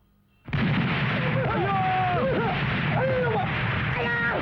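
A bomb goes off in a Tamil comedy film scene: a sudden loud blast after near silence, followed by sustained roaring rumble with whistling tones over it, loud and close.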